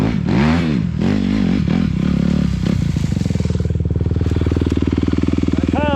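Enduro motorcycle engine running loud and close, revving in rough bursts before settling into a steady, rapid throbbing idle, with no talk over it.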